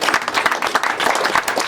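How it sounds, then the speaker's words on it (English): A big round of applause from a fundraiser audience, dense sustained clapping at steady loudness throughout with no talk. "A big round of applause"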